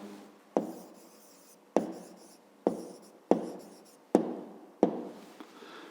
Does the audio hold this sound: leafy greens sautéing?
no